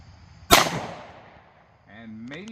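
A single sharp 10mm pistol shot is fired from 15 feet into a gel block, a loud crack with a decaying ring, followed by a brief voice.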